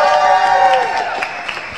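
An audience applauds and cheers for a guitarist during a live broadcast show, a steady wash of clapping over a sustained musical tone that continues throughout.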